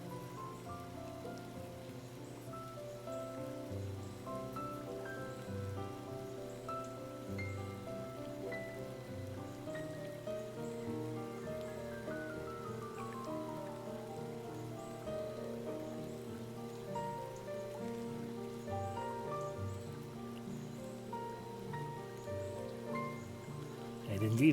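Rain falls in the video game Chicory: A Colorful Tale, a soft steady patter running under gentle, sustained melodic music for the whole stretch.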